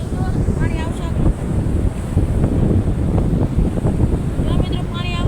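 Sea waves wash onto a shore in a continuous rushing roar, heavily buffeted by wind noise, with a few faint voices and bird-like chirps at the edges.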